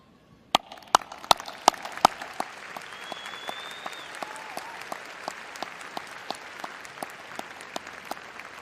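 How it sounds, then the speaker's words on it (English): A commencement audience at a university graduation applauds the faculty, with a few sharp, loud claps up front over a building, steady ripple of many hands, and a faint whistle or call in the middle. "join me in applauding this outstanding group of educators and scholars."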